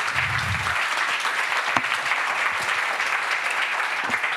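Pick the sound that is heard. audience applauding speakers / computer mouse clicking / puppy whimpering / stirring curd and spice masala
audience applauding speakers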